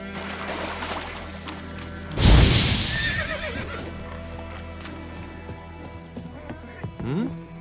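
A horse in The Witcher 3 gives one loud, close whinny, its hooves clip-clopping at a trot under steady game background sound and a voice.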